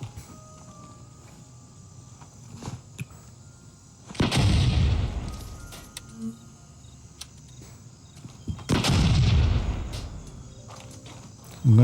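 Two heavy grenade blasts in the video game Gray Zone Warfare, each a loud, booming burst with a rumbling tail, about five seconds apart, over quiet ambient background with faint insect-like chirping.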